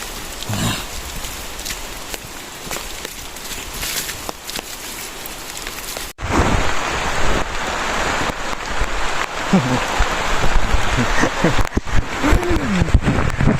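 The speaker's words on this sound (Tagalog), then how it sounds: "See, super rain guys." Heavy rain pours on a farm, quiet at first and then a loud, dense downpour hissing on surfaces, with brief voices or other sounds faintly mixed in.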